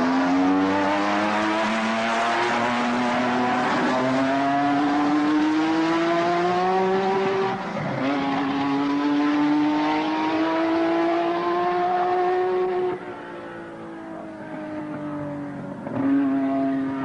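Formula 1 race cars at the end of untimed practice at the San Marino Grand Prix, Dino Ferrari circuit in Italy: loud, high-pitched engines wailing and shifting pitch continuously, with revving rises and dips as cars pass.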